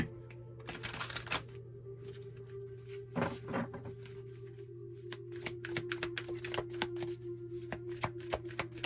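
Oracle cards being shuffled and pulled for a tarot-style reading, a quiet run of crisp riffling and flicking bursts, close and alone with no talk.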